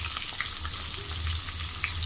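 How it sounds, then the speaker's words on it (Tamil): Steady frying sizzle of onion and garlic in a hot pan, continuous crackle with occasional stirring scrapes, close and fairly loud, no talking. "இப்போ நறுக்கி வச்சுருக்க வெங்காயம் பூண்டு ஆட் பண்ணி நல்லா வதக்கிக்கலாம்"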